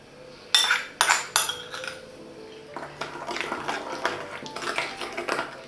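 Three sharp clinks of a spoon on a bowl, then a stretch of steady scraping and tapping as sugar and sour cream are mixed together for a yeast dough, close up and with no voices.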